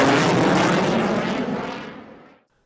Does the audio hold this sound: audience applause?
no